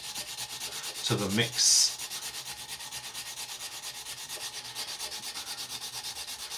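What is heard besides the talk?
sanding CA filler on a model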